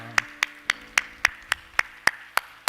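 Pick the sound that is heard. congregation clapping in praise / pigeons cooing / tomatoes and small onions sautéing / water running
congregation clapping in praise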